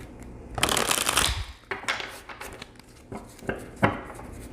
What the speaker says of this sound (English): I'm being told to shuffle one more time.